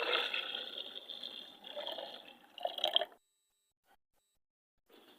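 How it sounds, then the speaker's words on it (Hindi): Leftover milk is poured into ground almonds and sugar for an almond milk sharbat, a steady close liquid stream lasting about three seconds before stopping abruptly into near silence. "अब हम इसमें डाल देंगे जो बकाया दूध था वो।"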